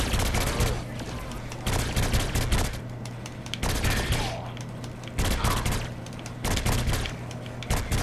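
Dense bursts of rapid gunfire from a weapon in the video game Saints Row IV, loud and close, coming in repeated volleys with short pauses between them.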